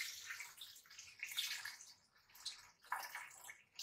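Water poured into a big cooking pot while making lontong coconut gravy, a soft continuous splashing with a few louder surges, fairly close and quiet, with no talking.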